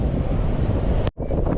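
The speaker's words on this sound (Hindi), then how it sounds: "हवाएं तेज़ चल रही हैं, समंदर का मौसम बिगड़ चुका है" Strong wind and rough sea at Jumeirah Beach in Dubai during a storm, a loud, close gusty roar with a brief dropout near the end.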